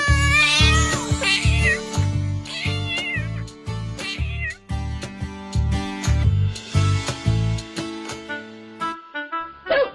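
Cartoon cat meowing and wailing repeatedly in long pitched cries over a rhythmic musical backing, loud and upfront, with no talking.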